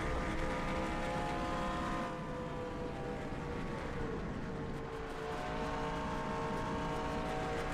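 A steady, loud engine roar with whining tonal harmonics, like a race car at speed, continuous throughout with no voices, from a race car bottoming out in the racing video game NASCAR Racing 2003 Season.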